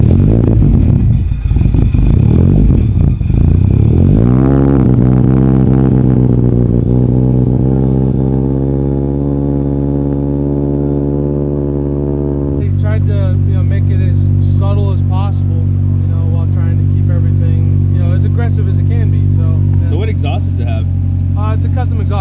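Tuned Mitsubishi Evo X making about 900 hp, with a custom turbo-back exhaust, idling loud and close with a deep steady drone that swells with revs, while people talk over it throughout.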